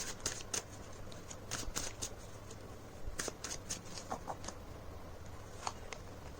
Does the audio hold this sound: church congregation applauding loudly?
no